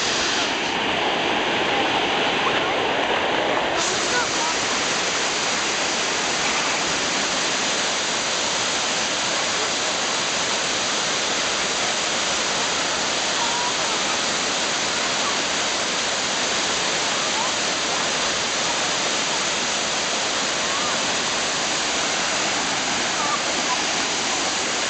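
A waterfall at Stony Brook park pours in a loud, steady, close rush of broadband water noise that runs unbroken throughout, with a brief change in tone during the first few seconds.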